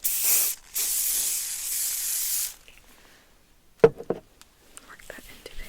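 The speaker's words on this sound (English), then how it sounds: "I'm gonna go ahead and spray a little hairspray." Two bursts of hairspray from an aerosol can hiss loudly up close, a short puff then a longer steady spray, followed by quiet handling sounds and soft rustling.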